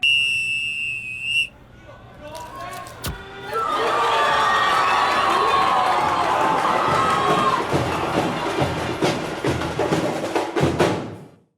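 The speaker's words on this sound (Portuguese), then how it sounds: "Roda a vinheta." A football channel intro vignette for Brazil national team fans opens with a sharp whistle tone and a hit, then a loud stadium crowd cheers and roars, breaking into rhythmic chanting pulses before cutting off.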